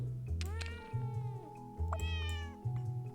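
Cartoon cat meows from the puzzle video game Cats Organized Neatly, two clear rising-and-falling mews over a steady looping game tune with a low pulsing beat.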